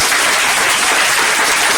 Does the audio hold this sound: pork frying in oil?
no